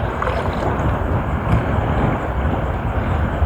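Strong wind roars steadily outdoors under thick cloud before rain on a fishing outing, a loud, unbroken gusty rush buffeting the microphone throughout.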